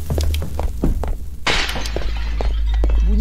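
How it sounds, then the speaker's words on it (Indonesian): Glass shatters in the horror game Măgurele Mystery: a single sharp, bright crash midway through, set among low hum and dull thuds. "Bunyi kaca pecah."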